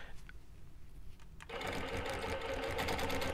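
A longarm quilting machine stitching along a ruler runs with a fast, steady mechanical whir that kicks in abruptly partway through and continues loudly, after a quieter stretch of faint machine hum.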